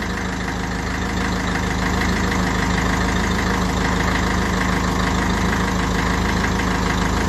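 A 1957 Ferguson 35 tractor engine idles steadily while warming up, a loud, even, continuous diesel chug close by with no talk over it.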